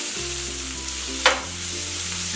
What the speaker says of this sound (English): Now I'm gonna go ahead and add my steak to the pan.